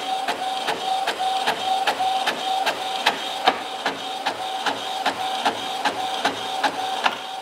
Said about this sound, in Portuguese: A impressora que eu utilizo aqui, pessoal, é uma impressora a jato de tinta, tá? Tá HP, impressora normal.